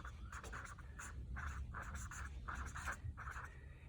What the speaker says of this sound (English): So I'll write the word prior knowledge.